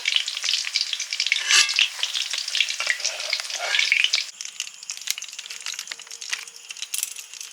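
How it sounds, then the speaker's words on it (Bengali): Chicken pieces fry in a pan for mixed fried rice, giving a dense, loud, steady sizzle with crackles and a few stirring scrapes; the sizzle thins a little partway through. No one speaks. "মিক্সড ফ্রাইড রাইসের চিকেনটা এবারে ফ্রাই করে নেব"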